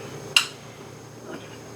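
A metal spoon strikes a bowl once with a sharp clink, followed by a softer scrape against the bowl holding fresh corn salad, close and otherwise quiet.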